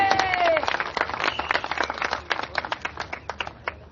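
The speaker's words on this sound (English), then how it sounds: "A round of applause for Mr. Wong." An audience at a Singapore 2015 general election rally in Tanjong Pagar applauds warmly, dense clapping that fades gradually into scattered individual claps.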